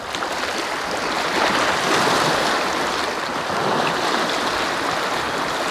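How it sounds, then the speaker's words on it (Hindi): Waves from Pangong lake in Ladakh lap and wash continuously against the shore, a steady broadband rush of water with gentle swells, heard close and alone with some wind. "ये जो झील से जो लहरें आके यहाँ पे टकरा रही हैं इसकी बिल्कुल एकदम डिवाइन एकदम प्यारी आवाज़ है।"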